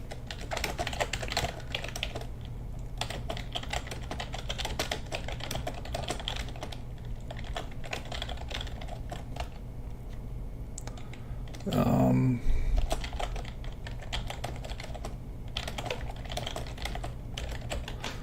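A computer keyboard is typed on in irregular bursts of quick clicking keystrokes at close range, continuing throughout with brief pauses and a short louder noise partway through.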